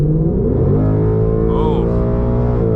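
A 2020 Ford Mustang GT V8 with a Borla exhaust accelerating on a night drive, heard from inside the cabin as a loud, steady engine drone that rises in pitch.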